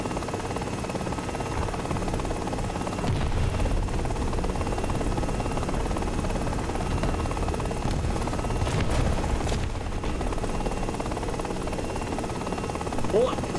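A helicopter flying in a video game, a steady droning rotor and engine buzz that runs throughout, loud and constant, with someone talking over it.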